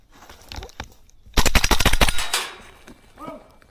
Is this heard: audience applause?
no